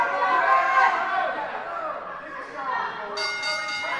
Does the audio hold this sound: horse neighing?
no